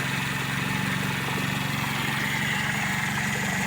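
A Toyota Corolla KE30 engine idles steadily after its first start in 18 years, a close, even mechanical drone with a fast regular pulse running unbroken throughout.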